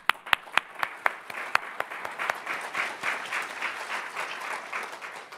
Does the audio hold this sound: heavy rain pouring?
no